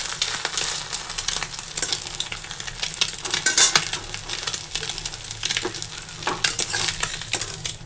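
An egg omelette sizzles in a pan while being stirred, bright crackling frying under repeated scraping strokes of a utensil, close and loud, with no voices.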